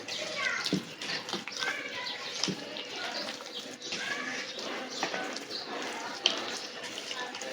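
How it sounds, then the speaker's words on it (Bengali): Lukewarm water poured into rice-flour batter for fried teler pitha, a continuous close trickling and splashing pour that runs throughout the clip, with occasional faint knocks. "এখন আমি আরেকটু কুসুম গরম পানি দিয়ে নিচ্ছি"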